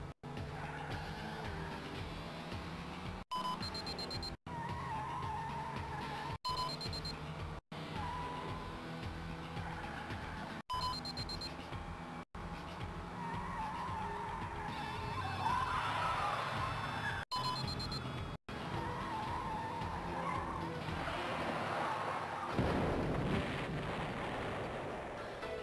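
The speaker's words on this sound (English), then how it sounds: "You do a little car chase and..." Car chase in the 1990s FMV game Wirehead: steady engine noise with tire squeals and skids, broken by abrupt cuts and a louder rumbling stretch near the end, with no talking.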